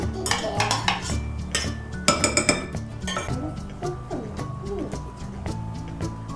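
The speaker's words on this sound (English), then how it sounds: "You just scrape the sides real good to make sure you get all that flour in all that liquid." A spoon scrapes and clinks around the sides of a bowl while pancake batter is mixed. The scraping is steady and close, broken by sharper metallic taps, with only faint background noise.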